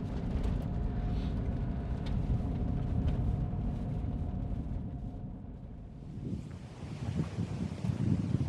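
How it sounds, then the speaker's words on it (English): Strong wind blows outdoors across a landscape, buffeting the microphone with loud, roaring low rumble that surges and eases, with gusts building again toward the end. "Okay, so it's bloody windy, but it's not that cold."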